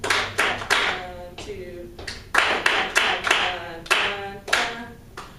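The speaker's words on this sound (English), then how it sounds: "Actually, no, let's clap it really quick." A music class claps a rhythm together, sharp group claps landing in a steady pattern with brief pauses between phrases, while a voice counts and talks between them.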